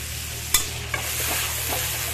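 Mustard paste being stirred into a pan for a fish curry of pabda fish, a couple of sharp scrapes of the spoon against the pan over a steady low sizzle of oil and water, close and moderately loud.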